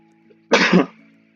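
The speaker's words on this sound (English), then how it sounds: "Stupid people make me sneeze." A single sharp, breathy sneeze bursts out close to the microphone against a quiet electrical hum.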